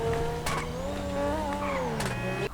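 A Grotti X80 car engine in GTA 5 Online drones steadily with shifting pitch, a harsh metallic rasp like clanging metal rising briefly twice, loud and close throughout.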